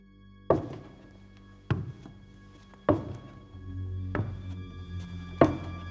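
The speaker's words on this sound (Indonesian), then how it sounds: "itu suara langkah turun tangga makin jelas kedengeran" Slow footsteps coming down a staircase: five heavy, evenly spaced thuds about a second apart, each with a short ringing decay over a steady low hum.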